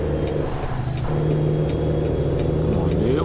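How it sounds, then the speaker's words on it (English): A Peterbilt 389 truck in American Truck Simulator runs with a steady engine drone and a continuous hiss, a sustained loud mechanical sound with a faint high whine and a voice talking briefly. "You hear that blow-off valve on this truck?"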